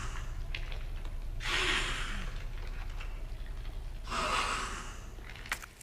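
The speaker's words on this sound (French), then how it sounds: "C'est le bruit d'un zombie, d'un liqueur ou quoi?" Licker creature from the Resident Evil 2 Remake video game making two harsh, breathy hissing snarls a few seconds apart over a low droning game ambience, with a faint click at the end.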